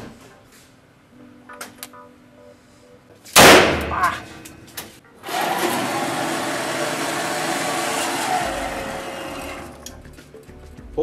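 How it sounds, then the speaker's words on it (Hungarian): A Ruger Alaskan .454 Casull snub-nosed revolver is fired once, a sharp, very loud blast, followed by a long, sustained roar of noise. "5 lövés, 10 méterről revolverezve 454 kazullal."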